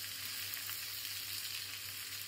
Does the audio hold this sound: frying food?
yes